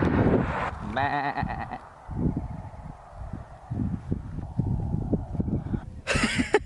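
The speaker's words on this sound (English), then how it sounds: "we saw sheep. So let me show you the sheep" A single wavering bleat from a sheep by a roadside in Iceland in summer, then soft outdoor rustling and bumps, ending with a brief harsher call; wind-like background throughout.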